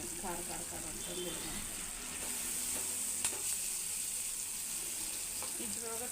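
Green chillies frying in hot oil and being stirred: a constant bright sizzle with occasional scrapes, close and steady, with a faint voice early on.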